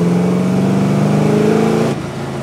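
A Holden Torana XU1 HDT prototype replica with a big V8 engine revs up with a strong, rising tone close by, then cuts off sharply, leaving a quieter idle.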